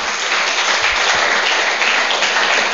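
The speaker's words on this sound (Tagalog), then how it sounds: "Palakpak sa Panginoon" A church congregation claps in praise to the Lord, giving steady, dense applause that fills the room evenly for a few seconds with no talk over it.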